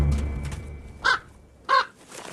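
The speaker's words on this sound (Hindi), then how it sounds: "पास में एक कौवा छिपा हुआ है जो जोर जोर से काऊ काऊ कर रहा है।" A hidden crow caws twice in the wild, two loud, harsh calls about half a second apart, close by over a quiet outdoor background.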